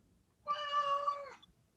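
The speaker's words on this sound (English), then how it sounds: "And that's my cat." A house cat gives a single clear, drawn-out meow lasting about a second, close and fairly loud against a quiet room.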